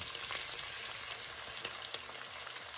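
Eggs sizzle steadily in a hot pan while cooking for a breakfast pizza, a close, even frying hiss dotted with small crackles and pops and no talking.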